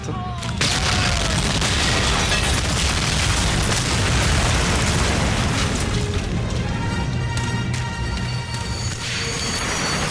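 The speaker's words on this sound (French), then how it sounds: "Les explosions sont assourdissantes." Loud, booming explosions in the World War II PC game Medal of Honor: Allied Assault roar continuously with crackling debris and bursts of gunfire, dense and overwhelming, with faint shouting beneath.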